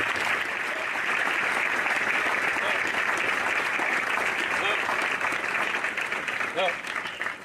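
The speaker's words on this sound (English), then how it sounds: "please join me in giving our awardees another big round of applause" Graduation ceremony audience at a military regiment's advanced camp gives awardees a big round of applause, a sustained, full crowd clapping that stays loud throughout, with faint voices mixed in.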